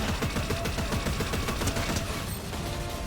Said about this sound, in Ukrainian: Стріляємося.